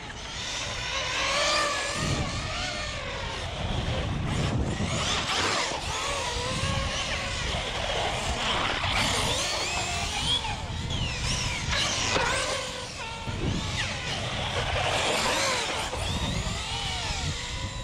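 An ARRMA TLR Typhon 6s RC truggy at full power, its electric motor whining and surging through repeated revving bursts with tire noise, close and loud, continuous for the whole stretch with no talk.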